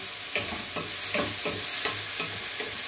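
Garlic browning in hot oil in a pan for beef stew, a constant soft sizzle broken by about six regular scraping strokes of a spoon or spatula stirring it, close and alone without talk.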